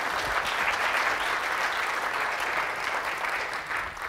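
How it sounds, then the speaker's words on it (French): Audience at an astronomy lecture applauding a speaker, dense sustained clapping from a sizable crowd, evenly loud for about four seconds and tapering slightly at the end. "Jean-Philippe Beaulieu, tout le monde peut applaudir."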